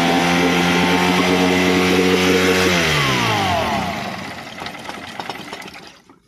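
An outboard boat engine fitted with a replacement CDI ignition module runs loud and steady with a harmonic drone, then its pitch sags and the engine falters and dies away over the last seconds.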